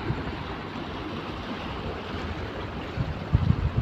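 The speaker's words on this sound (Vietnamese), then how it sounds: "sóng gió đã đến." Rough sea waves surge under steady wind buffeting the microphone, a continuous broadband roar with a few heavier thumps of surf near the end, no voices.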